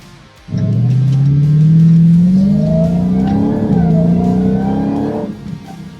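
A Dodge Charger Hellcat Redeye in track mode accelerates hard, its supercharged engine rising into a loud, deep roar that climbs steadily, dips briefly at a gear change, then climbs again before easing off.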